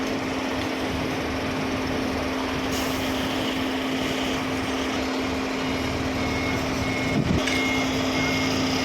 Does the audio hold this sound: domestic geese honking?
no